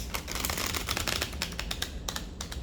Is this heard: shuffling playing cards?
yes